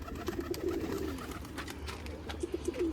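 Pigeons kept on a rooftop in Amritsar's Boriyan Wala Bazaar coo in two short bursts of soft, throaty pulses, one near the start and another near the end, over a low background hum.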